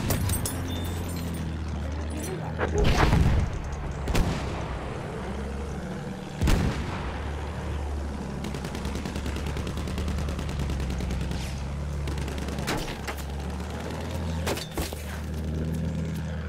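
Video game gunfire with repeated shots and heavy booming blasts over a constant low rumble, some sharp reports standing out loud and close, with no talking.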